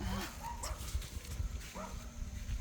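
A dog barks a few times in short, sharp bursts at moderate distance, with a steady low background rumble underneath and no talk.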